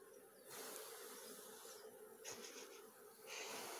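A dense, steady hum of many honeybees buzzing at a beehive fills the recording, close and continuous, swelling slightly at moments.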